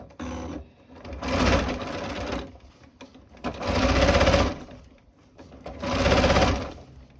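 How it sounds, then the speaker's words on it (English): Stitching the hem of a shirred elastic summer dress, a sewing machine runs in three loud, steady bursts of motor hum and rapid needle rattle, with quieter handling sounds in between. "I'm now going to sew my hem."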